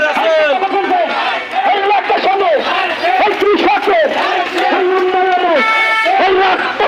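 Local party workers at a BNP election campaign gathering in Gopalganj raise loud, close chanting cheers and rhythmic shouts, a dense crowd of voices celebrating continuously with no break.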